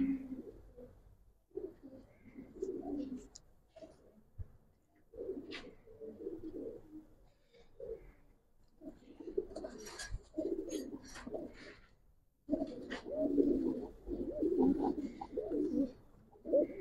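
Giribaz racer pigeons coo close by in repeated low, throaty phrases, with short gaps between bursts and a few faint chirps over them.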